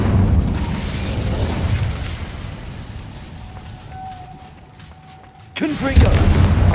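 A fire spell cast in the video game Hogwarts Legacy: a loud roaring burst that thins to a faint tone, followed by a sharp, heavy blast near the end.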